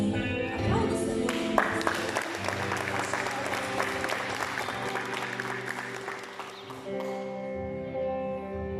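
Steady applause from a congregation fills a church during a communion service, dense clapping sustained throughout with music or organ tones sounding underneath.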